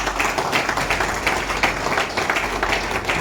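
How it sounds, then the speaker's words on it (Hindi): An audience at an IPTA tribute gathering for the folk singer Jaglal gives dense, steady, fairly loud applause, with many hands clapping together throughout. "एक बार जोरदार तालियां सबके लिए।"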